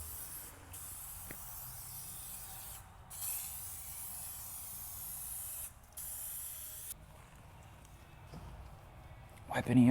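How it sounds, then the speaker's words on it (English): A can of aerosol tire shine sprays onto a truck tire in steady hissing bursts, several spaced out and separated by short gaps, with a voice talking in the background. "the second you spray it and it comes out of the can, that instantly flashes"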